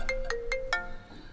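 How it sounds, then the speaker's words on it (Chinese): A mobile phone ringtone plays four quick electronic chime notes in a regular rhythm, moderately loud in a quiet indoor room. "周总，您电话"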